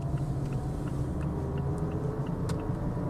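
A steady, low engine rumble of a manual car in third gear fills the recording, with faint ticking noises over it, like being inside a car while driving.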